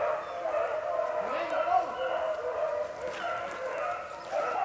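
Hunting dogs from a kennel pack bay and yip in the distance while chasing a rabbit through a swamp, a faint layered chorus that swells and fades under steady outdoor ambience.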